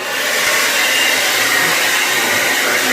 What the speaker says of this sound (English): you need to dry the ends of your hair with a blow dryer